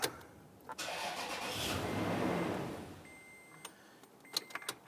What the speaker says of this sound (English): start it up, and we're going to let the engine run until it dies out